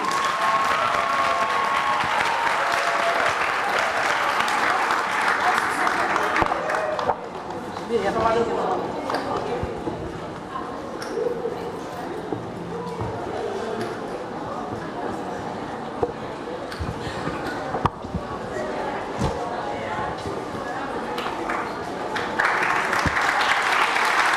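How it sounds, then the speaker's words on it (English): At an English-speaking international Muslim school's 2020 graduation ceremony, an audience applauds in a sustained crowd clatter that dips midway and swells again, with voices mixed in. "Clap your hand, everyone."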